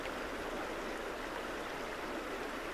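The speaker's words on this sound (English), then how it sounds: "Just hear the water" Steady, continuous rush of flowing river water, full and even throughout with no breaks, heard close and alone without any voices.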